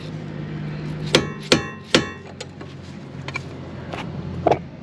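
A hammer tapping an aluminum suspension part on a 2022 Subaru BRZ snug during a BC coilover install: three sharp metallic taps close together, then a few lighter knocks, alone.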